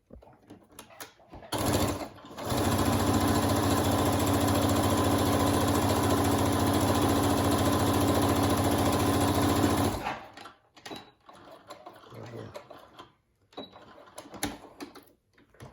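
A sewing machine stitches the curved seams of a fabric mask in one loud, steady run of about eight seconds, followed by quieter handling noises and small clicks.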